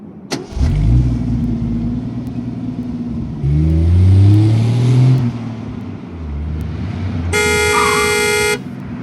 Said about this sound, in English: a car drives by and slams the horn